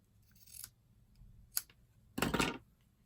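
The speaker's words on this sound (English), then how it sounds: "I need to cut off a little piece." Scissors snipping a small piece of ribbon up close: two short, crisp snips followed by a longer, louder metallic cut, in an otherwise quiet room with no speech.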